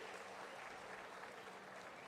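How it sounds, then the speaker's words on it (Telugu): Sustained audience applause fills a government meeting hall with officials, dense steady clapping throughout and faint voices mixed in. "చప్పట్లు కొట్టి మీరు కూడా అభినందించండి"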